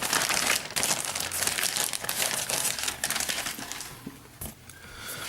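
Plastic wrapping crinkles and tears as faction cards from the Warhammer 40k Forbidden Stars board game are unwrapped, a continuous close crackle with sharper rips near the end.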